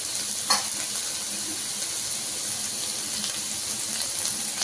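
Vegetables frying in a pan for street-style veg noodles: a constant close, hissing sizzle with light stirring scrapes running underneath, and one brief sharper clatter near the start, with no talking.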